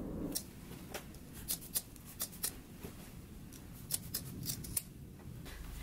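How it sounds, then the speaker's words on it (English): Scissors trim the seam allowance on sewn fabric pants, a handful of quiet, separate snips spaced irregularly over a soft background hush, close up and without speech. "So now we can go ahead and trim our seam."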